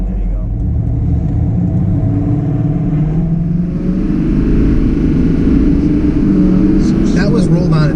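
An LML diesel pickup truck accelerating from inside the cab, a deep rising engine rumble that grows louder and higher in pitch, with people talking over it.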